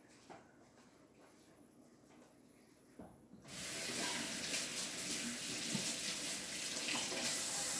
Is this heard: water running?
yes